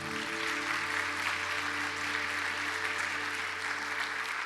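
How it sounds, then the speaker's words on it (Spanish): A church congregation applauds during a Sunday service, a dense, continuous wash of many hands clapping, steady and even throughout, with faint room hum underneath. "Dele un aplauso al Señor."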